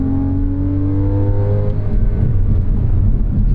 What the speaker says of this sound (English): This engine being lower on power too is not really meshing well with this longer gearing as we go uphill.